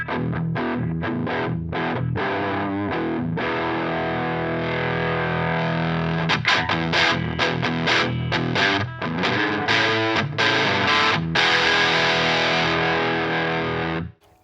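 An electric guitar plays through a Marshall-style distortion pedal with the presence control turned up, giving a loud, continuous, bright and fizzy driven tone with chords and picked notes that stops abruptly at the end.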